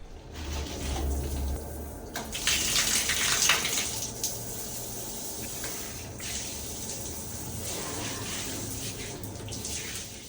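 Shower water runs in a bathroom showroom, a steady close hiss of spray that swells briefly into a louder gush before settling back to an even flow, with no voices.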